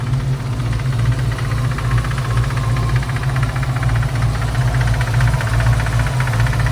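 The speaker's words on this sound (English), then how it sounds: "I think that noise is coming from that belt." A 1952 Ford F1 pickup with a fuel-injected 302 V8 runs at idle with a new engine belt, a steady close rumble carrying a faint thin, tinny rattle on top, with no talk.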